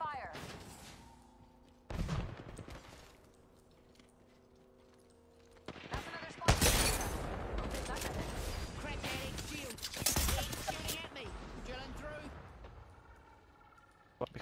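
Gunfire in the battle royale game Apex Legends, including a Wingman and a 30-30 rifle, with bursts of rapid shots and heavy impacts that grow dense and loud midway, mixed with game effects and voices speaking over them.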